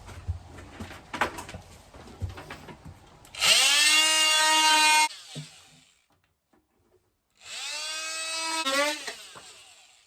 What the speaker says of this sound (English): Right, multi-tool.